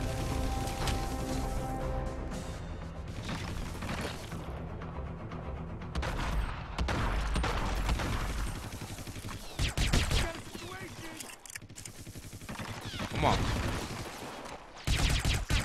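Gunfire in Hitman Absolution: rapid bursts of shots, crashes and booms come in waves, loud and near, mixed with game music and voices talking.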